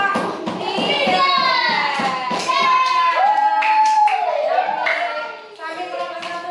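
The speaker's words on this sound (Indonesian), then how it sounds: "Yuk beri tepuk tangan untuk kelompok 3." Children clap for a student group in a classroom lesson, quick clapping mixed with kids' voices and an adult speaking over it.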